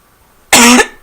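A single harsh, loud cough bursts close to the microphone after near silence, with the start of a second cough cut off at the end.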